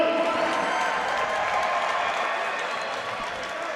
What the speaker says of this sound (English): Ladies and gentlemen, how about a round of applause for these young men?